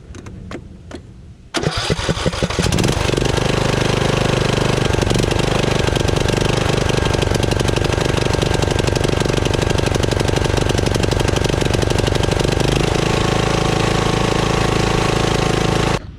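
A Husqvarna riding mower engine, fresh from a fuel solenoid replacement, cranks briefly and then fires into a loud, steady running drone that holds close to the end.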